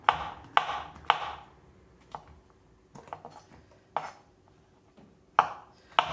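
Knife chopping vegetables on a cutting board for a stir fry, irregular sharp chops spaced out, close and fairly crisp, with quiet pauses between cuts.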